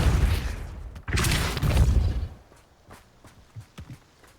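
A Depulso spell cast in Hogwarts Legacy, a forceful rushing whoosh in two loud, close bursts, the second ending in a thud, followed by light scattered footsteps fading on their own.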